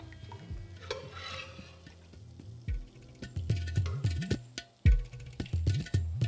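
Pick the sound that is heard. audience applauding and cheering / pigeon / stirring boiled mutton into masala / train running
stirring boiled mutton into masala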